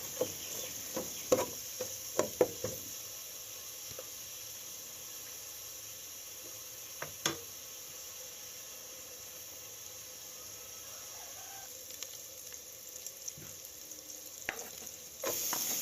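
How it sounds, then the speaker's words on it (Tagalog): Sliced onion frying in a pan for chicken adobo, a soft continuous sizzle and hiss, with occasional taps and scrapes of stirring, faint and without talk. "Maglagay na tayo guys ng hiniwang sibuyas. Ayan, lutuin lang natin guys ang sibuyas."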